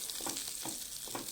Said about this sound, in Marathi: ही फोडणी त्या चटणीवर घालायची आहे